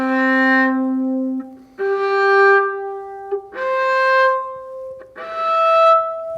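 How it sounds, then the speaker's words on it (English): Four bowed harmonics on a viola string, each sustained about a second with short gaps between, pitches stepping upward, clear and close with no talking. "And the harmonics on the viola string sound like this."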